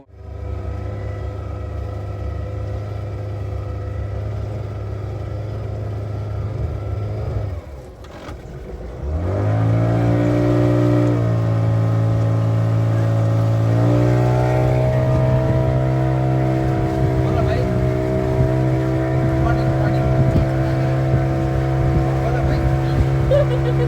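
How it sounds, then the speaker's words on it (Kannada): A tourist motorboat on a lake in Ooty idles low, sputters briefly, then revs up into a loud, steady engine drone that carries on as the ride gets underway. "ಇವಾಗ ಒಂದು ಬೋಟ್ ರೈಡಿಂಗ್ ಮಾಡ್ತಾ ಇದ್ದೀವಿ, ಅಳ್ಳಾಡ್ತಾ ಇದೆ"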